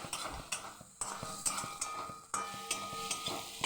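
Egg tarka being broken up and stirred in a frying pan, repeated sharp spatula scrapes and taps against the metal over a low sizzle, close and rhythmic with short pauses.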